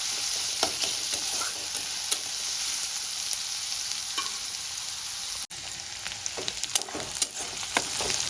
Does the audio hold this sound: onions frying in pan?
yes